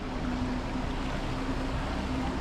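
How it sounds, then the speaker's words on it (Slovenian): The Vrbas river flows with a steady, dense rushing wash that stays even and unbroken throughout, close and fairly loud, with no voices over it. "lejte, takole zgleda, to je reka Vrbas"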